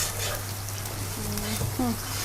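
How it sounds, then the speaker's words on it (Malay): Catfish frying in oil, a steady crackling sizzle with faint clattering, and a voice briefly heard over it. "Kita goreng lagi sampai dia pecah minyak ni"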